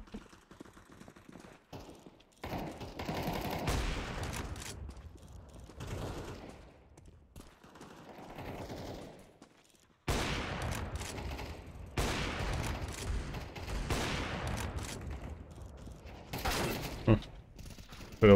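A bonus weapon fires in the video game Counter-Strike 2 in two long, dense sustained bursts with a quieter gap between them, loud and close over faint game ambience.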